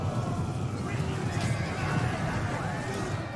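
Cavalry horses neigh and whinny amid a Total War Rome 2 multiplayer siege battle, with clip-clop of hooves and battle noise underneath and a voice talking over it.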